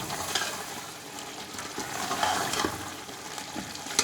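Spoon stirring ground cumin and coriander into a bubbling beef and spinach curry in a pot, giving a steady wet sizzle and scraping with a few brief louder clinks, all fairly close.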